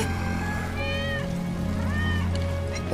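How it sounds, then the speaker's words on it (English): Wedge's cat in Final Fantasy VII Remake gives a couple of drawn-out rising meows over a steady mechanical hum and ambient game noise. "That's Wedge's cat."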